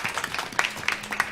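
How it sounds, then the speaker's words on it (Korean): A church congregation claps during a Sunday worship service, giving a short, dense burst of many hands applauding together at a moderate distance. "아멘. 우리 주님께 영광의 박수 올려드리겠습니다."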